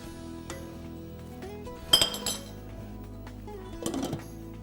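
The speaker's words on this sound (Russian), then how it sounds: "Слегка помешаем, чтобы шарики не прилипли ко дну." A spoon clinks against a metal pot a few times while stirring meatballs in soup, two sharper knocks standing out over a quiet low hum.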